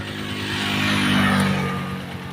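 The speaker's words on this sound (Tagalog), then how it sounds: "ganun ang tunog ng makina na ano, galing sa malayong biyahe ng Timex" A Kawasaki TMX motorcycle engine idles steadily close by, hot after a long ride from Manila to Bikol, a low rumbling hum with a slight rise and fall in loudness.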